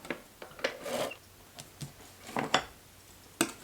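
Paper craft pieces for a baby girl mini album are burnished by hand, giving soft, scattered rubbing and scraping strokes that are close and faint, with short pauses between them.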